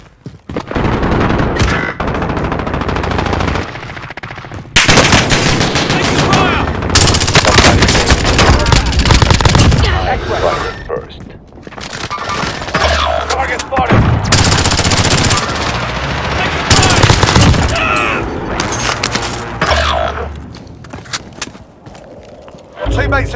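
SMG fire in the Warzone video game: loud rapid bursts and booming shots in clusters, broken by quieter gaps, with game voices talking over parts of the action.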